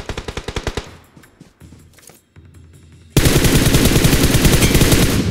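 Video game gunfire from a battle royale match, opening with a fast burst of close automatic shots, then brief quieter game sounds before a sudden, loud, sustained roar of continuous shooting.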